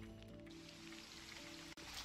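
Rain falls in the streets of Athens in Assassin's Creed Odyssey, a faint, even hiss of drops with a low sustained tone beneath and a brief dropout near the end.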